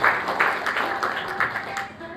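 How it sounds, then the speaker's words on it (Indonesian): Applause from a church congregation during a Christmas service in Kupang, a steady wash of many hands clapping at moderate distance with a faint voice mixed in. "Tepuk tangan yang terbaik ke Tuhan Yesus."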